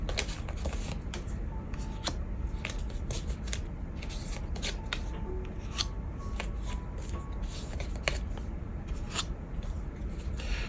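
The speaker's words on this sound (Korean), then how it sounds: "상대방 분들 카드 열어보겠습니다." Tarot cards being handled and laid out on a surface, giving close, continuous soft shuffling and sliding with sharp little snaps and taps scattered throughout.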